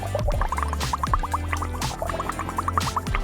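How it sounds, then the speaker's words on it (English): Water drips from a dropper onto paint, a quick series of small, bright, bubbly drip and gurgle sounds in a near, rapid rhythm over a background music bed. "Now drip water with this dropper."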